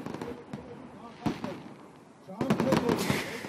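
Sharp bursts and crackling pops of fireworks at a New Year celebration in Tbilisi, scattered across the clip and thickening into a dense volley near the end, with a faint murmur of voices underneath.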